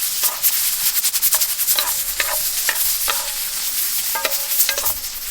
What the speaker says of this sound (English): Give it a little stir fry.